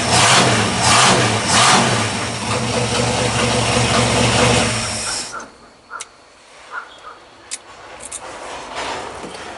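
A carbureted car engine with a Holley carburetor runs loud and close indoors with a rough rumble, then shuts off, leaving a quiet space with a few faint clicks.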